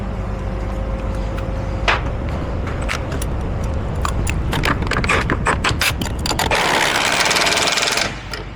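A power tool, likely an impact wrench or ratchet, runs down U-bolts on a Sprinter van axle in rapid rattling bursts that build to a loud continuous run near the end, close and harsh.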